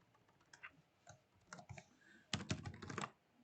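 Quiet computer keyboard typing in short bursts of clicky keystrokes, sparse at first and then a denser flurry near the end, with no talk.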